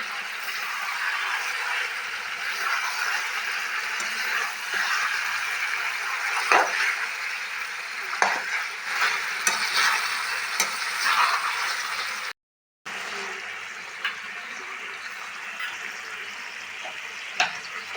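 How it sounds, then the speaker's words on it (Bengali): Dhaba-style chicken sizzles in oil on a low flame, a continuous close frying hiss broken by spatula stirring scrapes and clinks, with a brief silent gap near the end. "আবারও খুলে নেড়ে নেব। দেখুন কত সুন্দর রং এসছে, দেখুন তেলও ছেড়ে দিয়েছে।"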